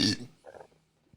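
A single loud burp from a man at the very start, a short guttural blast that quickly fades into a quiet room with faint murmuring behind it.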